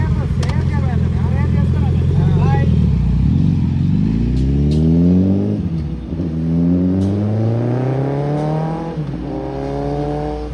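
A motorbike engine revs up and shifts through its gears several times as it pulls away, staying fairly close and loud throughout.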